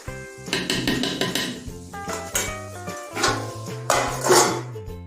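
Cabbage thoran stirred in a metal pan, a spoon clattering and scraping against it in repeated loud knocks and rattles, ending with a lid set down, close and without talk.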